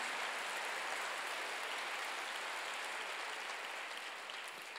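A church congregation applauds during a sermon, a faint, even, continuous patter of many hands clapping with no voices over it.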